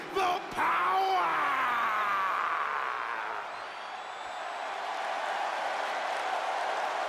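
Arena crowd in the WWE 2K20 wrestling video game, a broad wash of applause and cheering that swells and sustains throughout, with brief shouts and tonal game sounds near the start.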